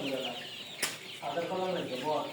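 Sonali chickens cluck in a poultry shed with a short burst of soft, close clucks, a brief flutter-like rustle in between and low murmuring voices underneath.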